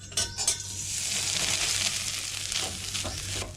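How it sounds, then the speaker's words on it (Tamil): Grated coconut sautés in ghee over low heat, giving a steady, close sizzle with scraping stirs and a few light clinks of a spoon against the pan. "நல்லா தேங்காயில் இருக்கிற ஈரத்தன்மை போகிற வரைக்கும் நல்லா 1 நிமிஷம் இந்த மாதிரி வதக்கிக்கிட்டே இருக்கணும் குறைவான தீயில்."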